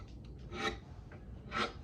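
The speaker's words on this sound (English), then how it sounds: "I just basically take this file and just take the burr off like that." A metal file rasps lightly across guitar frets to take off the burr, two short, soft strokes about a second apart, close by and alone.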